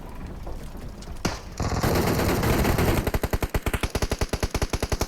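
Automatic gunfire in PUBG Mobile during a bridge team battle: a dense burst of shooting, then a rapid, even string of about twenty loud shots, close and continuous, with no voices.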